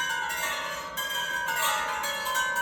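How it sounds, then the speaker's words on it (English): Tuned copper chimes ring in a continuous shimmer of overlapping, sustained tones, fairly loud and close, with fresh strikes swelling the sound now and then and no voices. "So all of our chimes are what they call a tuned chime"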